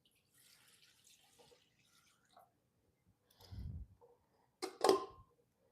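Turmeric golden milk poured from a pan, heard as faint trickles and drips followed by two short, louder splashy gushes into a cup.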